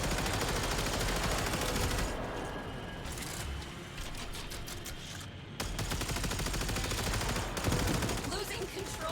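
Sustained rapid gunfire from the space combat video game VeilBreaker rattles on loudly for several seconds, with brief breaks between bursts and a faint voice underneath.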